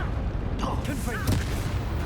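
A Confringo fire-blast spell cast in the Hogwarts Legacy video game lands as a brief, booming burst amid combat clatter, with a voice calling out during the exchange.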